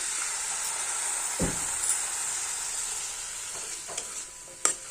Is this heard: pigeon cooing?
no